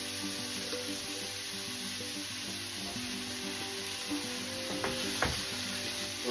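Flour being stirred into sausage meat in a hot pan to start a gravy, giving a steady low sizzle with light scraping of the stir throughout and no talking.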